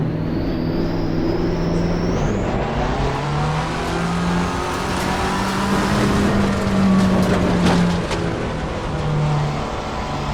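A race car at Spa in Assetto Corsa Competizione revs hard from the start, its engine note climbing and shifting through gears in loud, close, sustained acceleration with no talk.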